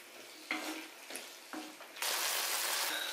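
Tomato chutney is stirred in a pan, with a few scraping strokes over a steady hiss of cooking, and then a louder, sustained sizzle that washes over everything, close up and with no voices.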